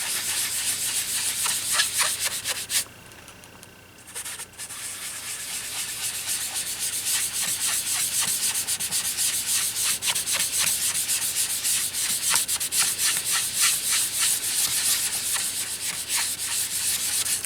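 A sponge dabs and rubs paint onto a surface, making a close, continuous scratchy rubbing with rapid repeated strokes and a short quieter pause near the start.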